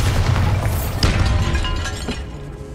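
A Bombarda blasting spell explodes in Hogwarts Legacy, a heavy booming blast with crackling debris that rumbles and slowly fades, loud and close.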